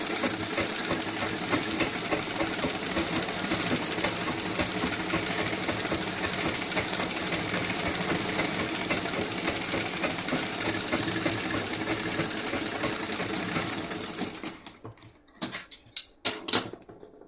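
Domestic sewing machine stitching a tailored garment's sleeve and back panel, a steady, loud, fast mechanical whirr running continuously for about fourteen seconds, then breaking into a few short stop-start bursts.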